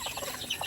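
A brooding hen clucks softly at her nest of eggs, a quick run of short, close clucks over roughly a second with faint background noise and no talking.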